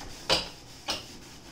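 Two short, soft rubbing swipes about half a second apart while cleaning a refrigerator, close and quiet against a faint background.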